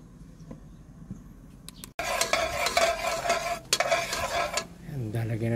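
After a quiet start, a pan suddenly erupts into loud sizzling as food hits hot oil, with spoon scrapes and clatter against the pan while it is stirred, close and busy.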